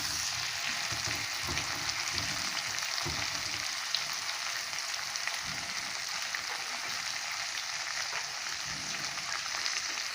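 Vegetables, cauliflower and peas for a paneer dish, fry in a pan with a steady, close, crackling sizzle that runs throughout, with faint stirring underneath.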